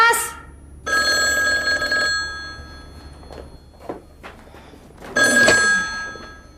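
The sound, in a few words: telephone ringing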